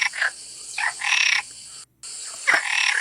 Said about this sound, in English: I searched for a frog voice.